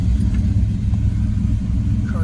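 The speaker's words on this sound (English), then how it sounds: "Car starts right up." A 1967 Dodge Coronet 440's engine rumbles steadily and close, a deep low idle holding constant without clear revving, with faint speech-like sounds in the background.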